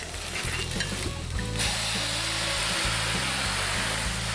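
Spring onions sizzle loudly in a hot pan, with a surge of hissing as Chinese rice wine is added partway through, followed by steady frying.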